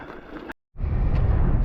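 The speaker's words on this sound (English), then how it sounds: "Suddenly got very windy." Gusty wind rumbles against the microphone, cutting out briefly before a louder, heavier buffeting roar returns.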